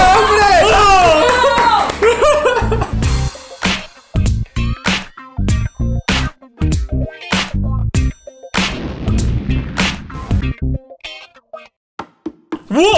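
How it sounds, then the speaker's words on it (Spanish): Talking gives way to a few scattered, uneven hand claps inside a taco restaurant, loud and close, separated by short silences rather than forming continuous applause. "¡Un aplauso para este hombre!"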